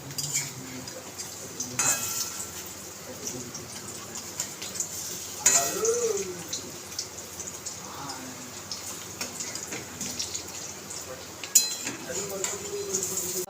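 Bitter gourd leaf fritters fry in oil, a soft continuous sizzle with a few clinks and scrapes of a utensil against the pan as they are turned, and some faint speech mixed in.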